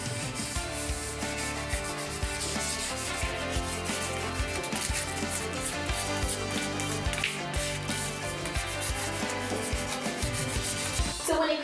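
Wood is sanded by hand with sandpaper in close, steady back-and-forth strokes, a continuous gritty rubbing with a rhythmic pulse from each pass, loud and alone without talk.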